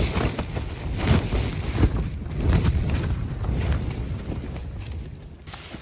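Wind gusting across a wild camping spot on a cloudy morning after rain, a loud, continuous rumble buffeting the microphone, with no talking.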